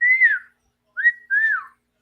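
A person whistles three short melodic phrases, the first a sustained falling note, then a brief rising chirp and a longer wavering tone that slides downward, clear and close with silent gaps between.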